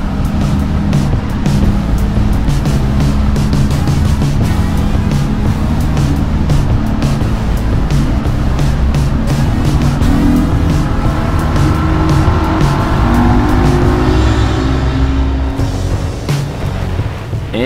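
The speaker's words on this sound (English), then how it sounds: "the Island Hopper is riding pretty good through the Gulf, because the surf is a foot or less." A boat cruises through the Gulf in calm surf of a foot or less. A loud, steady motor drone runs throughout with a rushing wash of water and wind, and no voices are heard.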